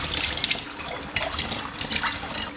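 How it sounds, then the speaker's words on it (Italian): Banana peels, soaked in water and vinegar, rinsed under a running kitchen tap: a steady splashing stream of water hitting peels in the sink, continuous and fairly close, with no voices. "Ora le sciacquo"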